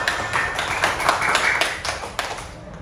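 A school class clapping hands together on the teacher's cue, a quick run of sharp, fairly close claps that fades toward the end.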